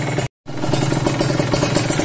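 Motorcycle engine running loud and close during a carburetor main jet test, a steady rough mechanical drone interrupted by a brief cutout before the engine note returns.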